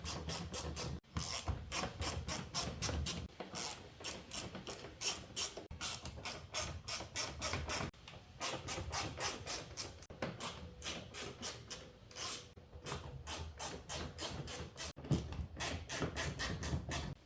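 A ratchet clicks in rapid bursts while backing out T25 Torx screws from the front bumper lip of a 2010 Volkswagen Jetta MK5, steady close pawl chatter with a few short pauses between runs.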